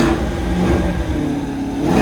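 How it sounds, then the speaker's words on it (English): A 2021 Chevrolet C8 Corvette engine roars loud and close, starting and revving in one continuous, steady blast with no voices over it. "John, starting her up for the first time"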